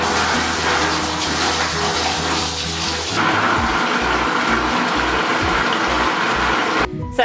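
A bath filling from the tap for a child's hot half bath. Water gushes steadily into the tub with a broad, continuous rushing noise, close and loud, and the tone shifts slightly partway through.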